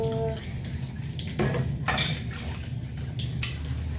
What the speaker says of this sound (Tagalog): Hugas muna ng plato.